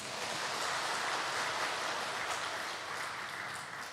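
A church congregation at a Sunday worship service applauds the choir, a soft, dense wash of clapping that stays even throughout and thins slightly at the end.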